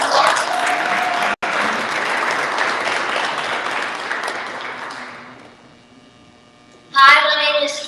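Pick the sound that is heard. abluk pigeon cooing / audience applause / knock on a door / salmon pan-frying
audience applause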